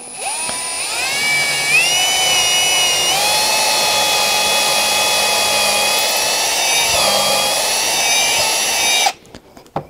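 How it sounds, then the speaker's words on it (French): A 3 mm wood bit bores a pilot hole in wood for a size-5 screw, the power drill whining steadily and loudly for about nine seconds with small pitch steps as it bites, then cutting off abruptly. "je vais utiliser un foret à bois légèrement inférieur à la vis"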